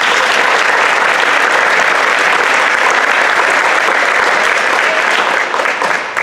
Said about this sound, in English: If you could please give them a round of applause.